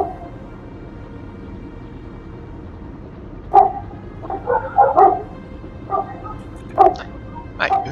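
Dog barks from a video game, a few sharp barks scattered over the second half above a low, steady background hum, with faint talk-like sounds mixed in.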